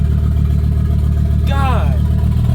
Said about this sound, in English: I got the car started with the new downpipe